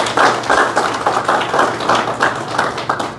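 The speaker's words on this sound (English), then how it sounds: "So, a round of applause for our Consul General," An audience at an evening event claps for a Consul General, a dense, even patter of many hands with pulsing swells, close and loud, no talking over it.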